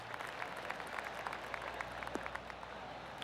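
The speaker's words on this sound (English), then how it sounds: "I can hear the golf claps around the course." Spectators on a golf course in PGA 2K25 give soft, scattered golf claps, a light patter of separate hand claps at moderate distance, quiet and sustained for a few seconds.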